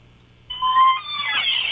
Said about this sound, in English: Here's the sound of the door opening.